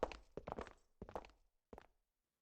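Footsteps in Zero Escape: 999, a few close, hard thudding steps in quick uneven clusters that thin out and stop, the last lone step fading into silence.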